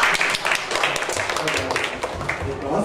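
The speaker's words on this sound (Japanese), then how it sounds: "拍手お願いします" Audience applause at a question-and-answer session of a childrearing event in Kanazawa: a steady wash of many hands clapping at once, continuous and moderately loud throughout.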